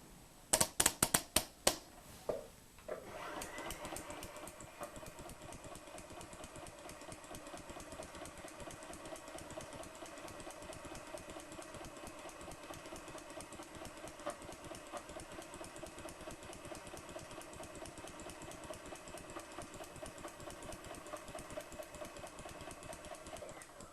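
A Hague linker joining the edge of knitting with yarn, a few sharp clacks at the start, then a steady fast mechanical whir and rattle running evenly and quietly to the end, no voices.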